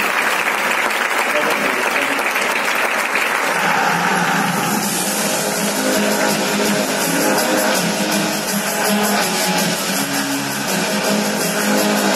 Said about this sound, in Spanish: un aplauso para Joan y Jaime